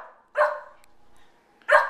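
Two dogs barking in short excited bursts at home, two loud barks spaced more than a second apart with quiet between, no talk.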